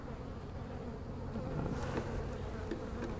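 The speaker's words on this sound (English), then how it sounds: "we'll be careful when we get the bees out of this box over here." Honey bees buzzing around beehive boxes, a dense steady hum of many insects close by with a few louder passes of single bees, no voices.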